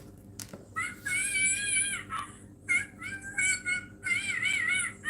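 A cat meows and wails repeatedly in a series of drawn-out, high, tonal cries with short gaps between them, close and fairly loud, during a livestream in Da Nang, Vietnam.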